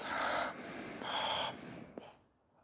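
A person performs a continuous inhale alternating between nose and mouth as a breathing exercise, with two long airy breaths followed by a short sniff, close and alone.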